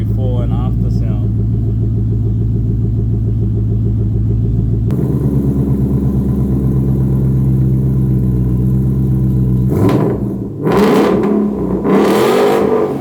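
Ford Mustang GT S197 with cat and muffler deletes idles with a deep, loud rumble, then the exhaust changes character near the middle and sharp revs roar out toward the end, close to the car.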